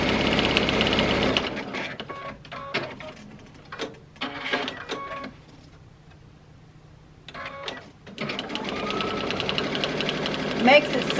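A home sewing machine stitches a fabric placemat in loud, close whirring bursts, pausing and restarting, with a quieter stretch in the middle where only faint clicks are heard, and someone speaking over parts of it.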